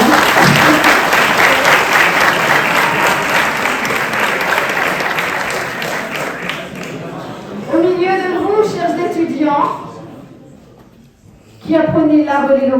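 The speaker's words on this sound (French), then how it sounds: "Merci d'applaudir." A university audience at an eloquence contest launch gives loud sustained applause that fades after several seconds, with someone speaking between bursts and clapping briefly returning near the end.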